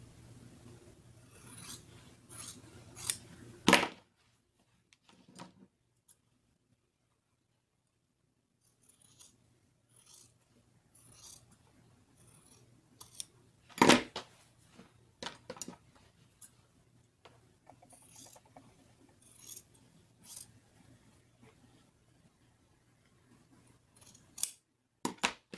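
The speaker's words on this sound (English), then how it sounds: "I am going to cut right here, and then I'm just going to cut on my cut line." Scissors snip through pant fabric along a cut line with scattered close, crisp cuts and clicks, several louder snips standing out, and long quiet gaps between them.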